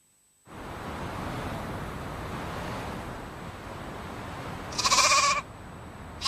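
Sheep bleat in a short burst near the end, rising over steady surf-like wind or wave noise that fills the rest of the clip.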